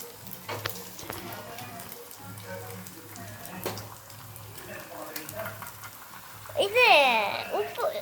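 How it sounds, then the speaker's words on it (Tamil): Beaten egg poured into a hot pan and stir-fried with salt gives a soft crackling sizzle with light scraping strokes, then a louder, brighter hiss near the end; a voice talks over the cooking. "முட்டை ஊற்றிக்கணும். முட்டை போட்டுக்கணும். ஊற்றிக்கிட்டு வதக்கி விட்டுறணும்."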